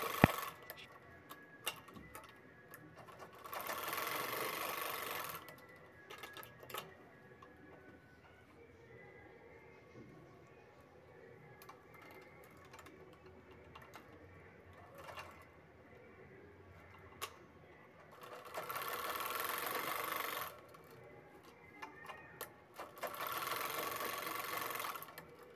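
A sewing machine stitches the corners of a cloth bag in two loud bursts of rapid whirring, separated by quieter stretches of light handling clicks nearby.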